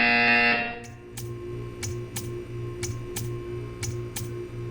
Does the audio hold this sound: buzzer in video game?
yes